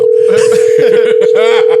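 A steady telephone dial tone hums loudly and continuously through a call while people talk over it.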